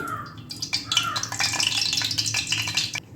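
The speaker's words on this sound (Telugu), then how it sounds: "గిన్నె వేడెక్కింది కదా మనం ఇప్పుడు దీంట్లో ఆయిల్ వేసేసుకుందామండి" Oil poured into a hot pan, a brief crackling sizzle with spatters lasting a few seconds, close and fairly loud, with no talking.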